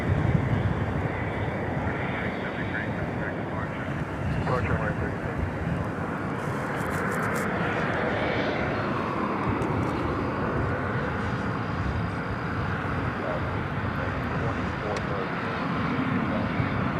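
Jet airliner arriving at DFW Airport at night on the flight from Austin, a steady low engine rumble at moderate distance with a voice talking over it.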